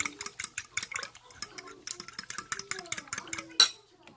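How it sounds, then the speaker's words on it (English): A whisk beating eggs with water into a slurry in a bowl, rapid rhythmic metallic clicking and stirring strokes, with faint children's voices in the background. "I'm going to just whisk them a little bit and put some water."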